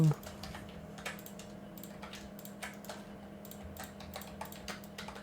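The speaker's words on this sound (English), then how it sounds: "The serenading sound of my keyboard clicking." A computer keyboard clicks during 3D modeling work, scattered light keystrokes in irregular short bursts, faint and close over a low steady hum.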